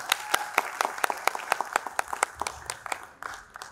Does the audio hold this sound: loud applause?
yes